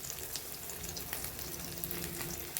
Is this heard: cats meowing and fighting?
no